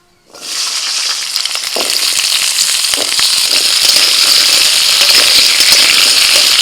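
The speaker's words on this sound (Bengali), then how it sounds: "লবণ হলুদ ওলকপিটা কিছুক্ষণ ভেজে নিয়ে" Kohlrabi pieces hit hot oil in a wok and break into a loud, bright sizzle after a brief silent moment. The crackle swells and then holds steady and intense, with no talking.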